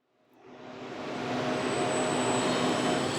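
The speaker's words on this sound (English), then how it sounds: "So I'm going to turn on the spindle." A Hurco CNC lathe spindle spins up from rest, building over about a second into a loud, steady whirring drone with a sustained high whine on top, and no voices are heard.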